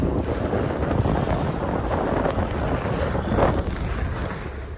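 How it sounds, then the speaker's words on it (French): A Force 3 breeze blows at sea aboard a sailboat heading toward Zakynthos, a steady roar of wind buffeting the microphone over the wash of waves, loud and constant throughout. "là un petit Force 3 s'est levé"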